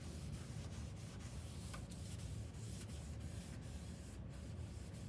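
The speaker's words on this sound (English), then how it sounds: "So I'm just wiping on a coat of polyurethane that's cut thin to down so it wipes easy." A cloth wiping thinned polyurethane onto a kitchen cabinet makes a quiet, close, continuous rubbing and brushing with faint repeated strokes.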